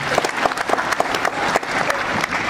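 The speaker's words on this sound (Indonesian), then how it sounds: "Boleh tepuk tangan untuk Anda." Audience applause at a political speech, a burst of clapping from a crowd with distinct individual claps standing out, steady and fairly loud.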